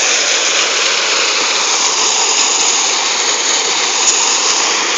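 A fresh mountain stream rushes past, a loud, constant broadband roar of flowing water close by, with no talking.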